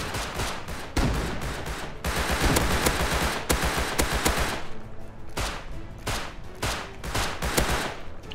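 Rapid gunfire from a firefight in the survival video game Rust, dense bursts of automatic shots and single cracks crowding the whole stretch, loud and close with brief gaps between volleys.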